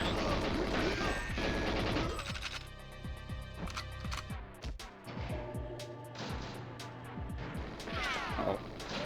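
Dense, rapid gunfire and crashing impacts from GoldenEye 007 on the Nintendo 64, with bursts of automatic fire and sharp single shots piling up loudly and almost continuously, plus a brief lull midway.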